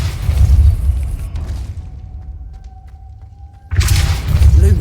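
The Depulso spell is cast in the video game Hogwarts Legacy: a deep booming burst, then a hushed stretch with a thin tone, and a second heavy low blast near the end.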